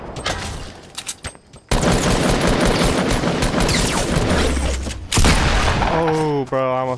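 Gunfire in Fortnite comes as loud, dense bursts of shots and booms in rapid succession, with quieter scattered shots at the start and people talking over the action.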